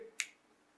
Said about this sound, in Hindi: चुटकी बजाए किसी को